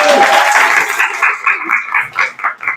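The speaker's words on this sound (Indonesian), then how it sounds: "Kasih tepuk tangan." A burst of classroom applause, dense at first and then thinning into separate claps as it fades.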